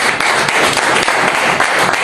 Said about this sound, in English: Can we not give the Lord the best clap of praise?